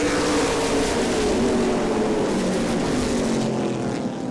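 Late model sportsman stock cars roar steadily at Angola Motorsport Speedway as the field takes the green flag, a dense, continuous engine drone that stays loud and close throughout, fading slightly at the end.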